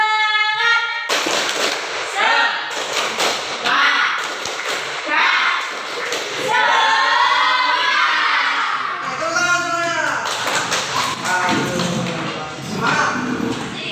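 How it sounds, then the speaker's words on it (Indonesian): A classroom of standing students perform a 'tepuk semangat' spirit clap during a peer-teaching session, with rhythmic bursts of clapping and taps mixed with loud group chanting and voices throughout. "Tepuk semangat"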